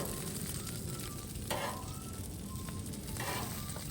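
Bacon sizzling in a pan, a constant dense crackle and hiss heard close up, with no voices and a few brief louder pops and spits from the fat.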